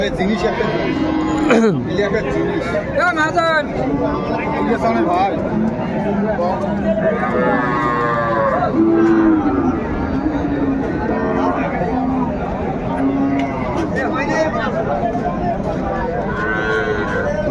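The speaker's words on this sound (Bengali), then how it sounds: "গাভী বাছুর।" Sahiwal cows moo repeatedly, drawn-out lowing calls rising over a steady crowd of people chattering nearby at the busy Ambari livestock market.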